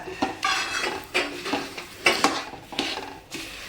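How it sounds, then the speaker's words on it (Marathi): Roasted sesame seeds being stirred into jaggery syrup in a pot for tilache ladoo, a spoon scraping and clinking against metal in irregular strokes, close and moderately quiet. "आता व्यवस्थित असं आपण मिक्स करून घेऊया आपला पाक आणि तीळ छान असे मिक्स झाले पाहिजेत"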